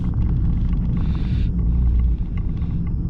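The sport exhaust of a 2021 Toyota Camry TRD V6 drones deeply, rumbling steadily, loud and close, with a low throaty tone and a brief higher whine.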